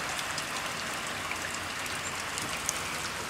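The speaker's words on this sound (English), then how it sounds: "You see it's still raining." Steady rain falls outside a flooded garage, a soft, even hiss of drops with no voices, fairly faint and unbroken throughout.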